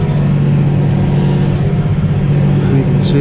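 A 240 CVX tractor works a power harrow, its engine holding a steady, close, low droning hum with a rumbling undertone throughout.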